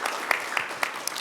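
At the close of a conference session on Jeju's role in the new space economy, a few sparse, evenly spaced claps ring out quietly in a brief burst.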